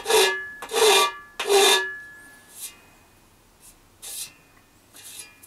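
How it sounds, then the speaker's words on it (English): Inside cut edges of a full-size R2-D2 head part are deburred by hand: three strong scraping, rasping strokes in quick succession, then several shorter, fainter strokes spaced apart, with no talking. "Just need to do a little deburring on the inside edges."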